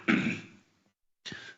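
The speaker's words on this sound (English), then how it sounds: "Listen to me cough." A person coughs twice, a harsh throaty burst followed by a shorter second one after a brief pause, close and alone.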